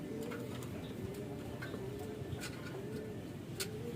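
Soft, low racing pigeon cooing repeats in a steady rolling pattern, with a few faint ticking sounds over a constant background hum.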